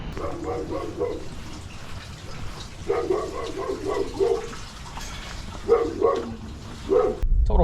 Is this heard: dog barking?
yes